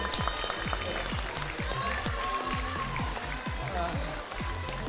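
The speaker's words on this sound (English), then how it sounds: "Round of applause for Mr. Vanderslice, coach, and his players." A middle school esports tournament audience for Super Smash Bros. Ultimate applauds with steady, sharp claps at moderate volume, continuing throughout alongside faint room noise.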